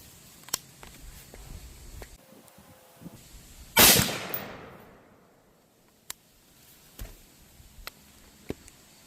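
A single sharp, loud gunshot from a Springfield Hellion rifle at a 20-yard range, followed by a decaying echo and a few faint clicks and taps in otherwise quiet surroundings.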